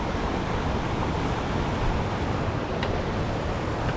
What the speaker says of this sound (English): You got the waterfall, the little bit of white water raft, running water coming through the rocks.